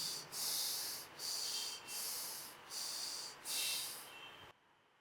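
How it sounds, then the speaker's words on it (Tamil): Deep breathing in and out during Mushti mudra practice: five long, close, airy breath hisses in a steady rhythm, each separated by a brief pause, ending abruptly in near silence. "நல்லா மூச்சை உள்ளெழுத்து மூச்சை வெளியே விடுங்க ஒரு 3 முறை"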